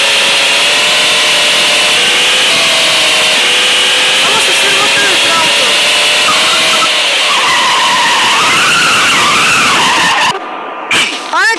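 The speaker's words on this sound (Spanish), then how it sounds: "la diversión de ahora es vamos a chocar autos" Cars skidding and crashing in a video game, with continuous loud tire squeal and engine roar. The noise runs steadily, shifts in pitch, and cuts off near the end.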